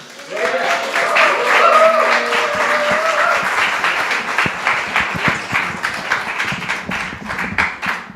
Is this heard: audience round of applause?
yes